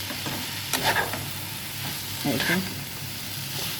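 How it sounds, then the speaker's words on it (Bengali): Chicken bhuna khichuri sizzles and crackles in a pot, a steady frying hiss with occasional stirring clatter and a brief spoken word. "চিকেন বোনা খিচুড়ি রান্না করছি"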